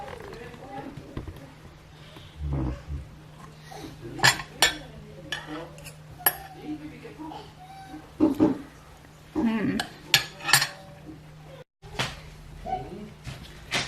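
Cutlery scrapes and taps against a plate while pork belly pochero is eaten with rice, scattered clinks and clatters in a quiet room with a low steady hum, and a voice speaks now and then between the sounds.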